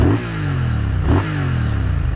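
2025 Triumph Speed Twin engine revving on the road, two quick throttle blips rising in pitch over a steady throbbing parallel-twin rumble, close and fairly loud.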